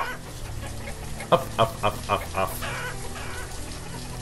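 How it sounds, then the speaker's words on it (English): Chickens clucking in the village-building game Banished, a short burst of five or six choppy clucks in quick succession over low ambient game noise, with a brief word spoken just before. "Get a herdsman on those chicken."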